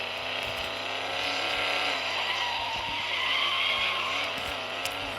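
A car in the mobile driving game Extreme Car Driving turns hard with a continuous tire skid and squeal over a steady engine drone, loud and unbroken for several seconds.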